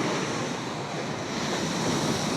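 Strong sea waves crash on the shore below the Harsiddhi Mata temple at Koyla Dungar hill. The surf makes a continuous loud roar, mixed with wind buffeting the microphone.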